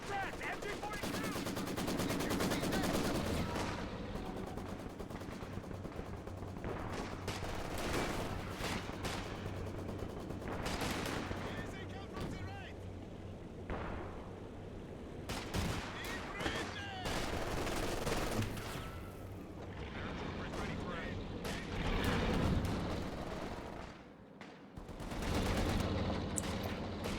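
MG42 machine gun fire in a competitive match, long stretches of sustained automatic bursts and gunfire in a dense battle soundscape, with occasional lulls and a commentator's voice at times.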